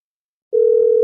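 A steady, loud phone tone begins halfway through and holds without a break as a call is placed.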